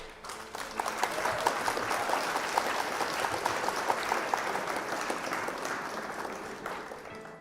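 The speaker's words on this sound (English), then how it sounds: "Round of applause for our opponent." A crowd gives a sustained round of applause, dense steady clapping that swells quickly and holds for several seconds before slowly tapering off.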